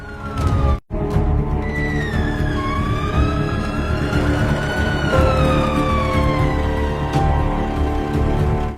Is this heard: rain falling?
no